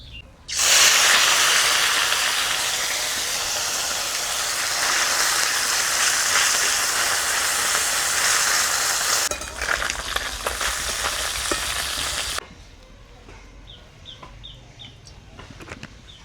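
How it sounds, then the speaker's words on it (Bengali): Murla fish sizzle in hot mustard oil in a wok, a loud, dense, continuous hiss that holds for about twelve seconds and then drops off abruptly to a quieter background. "মুরলা মাছগুলো আগে ভেজে নেব।"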